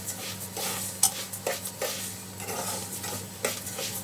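Rice being stirred in a cooking pot as it begins to brown, with scraping and clinking strokes at an irregular pace over a steady low hum, no talking.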